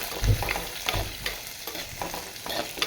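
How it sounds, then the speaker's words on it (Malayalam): Chopped onions hit hot oil in a pan and are stirred, a soft crackling sizzle with several close scraping stir strokes and a few louder clatters, no talking. "അരിഞ്ഞു വെച്ചിരിക്കുന്ന സവാള ഇട്ട് കൊടുക്കാം ഓക്കെ ഇളക്കി കൊടുക്കാം നല്ലതുപോലെ"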